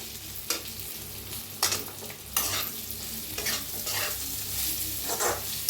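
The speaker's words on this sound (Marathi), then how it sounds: "ह्याच्यातच करूया गवारी मिक्स आपण भाजून घेतलेली" Roasted cluster beans (gavar) are mixed in a hot pan with repeated scraping strokes of a spatula over a constant sizzle, several sharper scrapes standing out, no talking.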